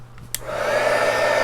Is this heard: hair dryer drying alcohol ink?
yes